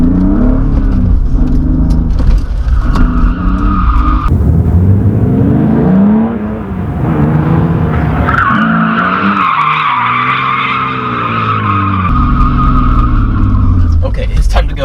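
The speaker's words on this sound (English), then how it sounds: "I'm gonna rip it in second gear now and see if I can do that real quick." A car engine revs hard in second gear, climbing and dropping through loud sustained pulls with tire skidding mixed in, continuous and close throughout.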